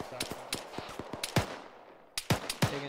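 Gunfire rings out in the ArmA 3 military video game, a series of sharp, separate shots and short bursts in an uneven rhythm, some close and punchy, others thinner with echoing tails, at moderate loudness.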